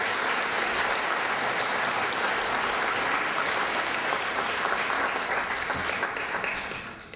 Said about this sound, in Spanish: Las palmas para el señor Alonso Cueto Caballero.